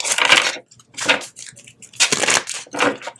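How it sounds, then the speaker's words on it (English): A deck of tarot cards is shuffled close up, loud papery riffles in several bursts with brief pauses between them, no talking. "let's go ahead and give these cards a good shuffle"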